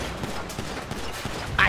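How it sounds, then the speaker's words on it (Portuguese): Rapid gunfire from GTA 5 gameplay crackles in repeated bursts of short sharp shots, moderately loud and layered over game ambience, ending with a louder impact near the end. "De onde que tá vindo esse tiro todo"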